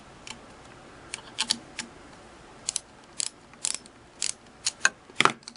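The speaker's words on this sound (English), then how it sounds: "So we'll just put in a screwdriver here and get these screws loose." A screwdriver working screws loose on a Singer 15-91 sewing machine feed dog gives quiet, scattered metallic clicks and scrapes, irregular and close, with no talk.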